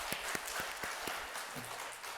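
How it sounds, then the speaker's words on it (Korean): A church congregation at a Sunday service applauding, a run of distinct claps that soon fades into quieter room sound. "우리 하나님께 영광의 박수 올려드리겠습니다"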